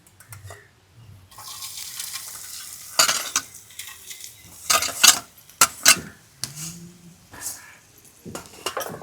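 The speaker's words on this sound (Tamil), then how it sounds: "இப்போ நெய்யை ஊற்றி தேங்காவை வறுத்துருவோம்" Grated coconut roasting in ghee crackles in the pan amid scattered bursts of stirring and scraping, with quiet gaps between the louder clatters and the sizzle rising and falling.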